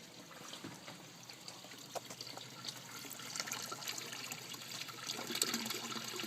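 Water draining from a school aquaponics fish tank after a vortex forms; a faint, steady gurgling trickle and rush of flowing water.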